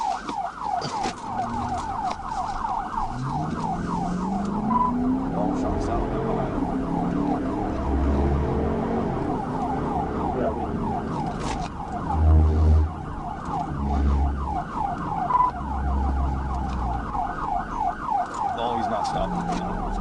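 Police car siren wailing continuously during a pursuit of a wrong-way truck on an interstate, loud and close, with a rising and falling cycle over engine and road noise throughout.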